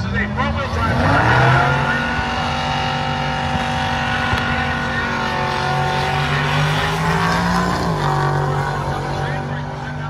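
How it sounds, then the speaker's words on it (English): A front-wheel drive drag car screams down the strip at Byron Dragway, its engine a sustained high roar with rising gear pitch, loud and continuous, while a track announcer talks over it. "This is a front-wheel drive car."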